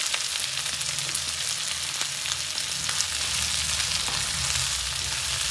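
Chickpeas and mushrooms fry in a pan for a crispy chana chilli, a loud, continuous close sizzle with faint stirring underneath.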